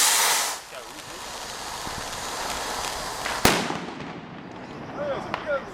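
An Elgato firework at a Fallas celebration in Valencia goes off with a loud hissing burst at first, then a sharp crack mid-way followed by fainter fizzing and whistles, with people talking nearby.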